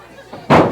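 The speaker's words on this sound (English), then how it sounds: "Let me show you how to do a body slam." A wrestler body-slams an opponent onto the ring mat at an FGW Shockwave wrestling show, one heavy, loud, close thud that cuts off the quiet arena murmur and then rings out briefly.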